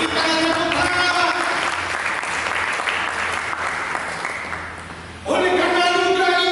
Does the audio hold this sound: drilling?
no